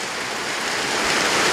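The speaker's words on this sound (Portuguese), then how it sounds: "e agora começou uma chuva." Rain beginning to fall outdoors in a town, a steady broadband hiss of drops that grows gradually louder, with no voices.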